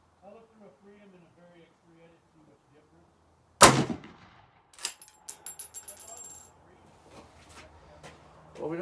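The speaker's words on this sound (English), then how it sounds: "So I'm going to try probably one shot at 25 yards and just see where it lands." A Mannlicher M1895 long rifle fires a single sharp, loud shot at an outdoor range, followed by a metallic rattle and clinks as the action is worked, with someone talking before the shot.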